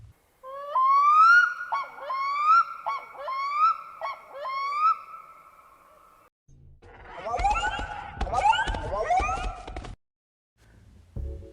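A black-throated loon's long, rising wailing calls repeat in a series, followed by harsher, throaty calls with loud pulses, all in a quiet setting.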